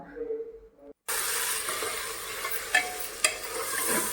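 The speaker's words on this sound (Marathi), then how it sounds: "ही जी मटणामध्ये जी चरबी असते ना ही आता आपण इथं तेलामध्येच टाकून घेणार" Mutton fat frying in oil with onions, a dense continuous sizzle that bursts in abruptly after a short quiet voiced moment, with a couple of sharper pops and crackles over the steady hiss.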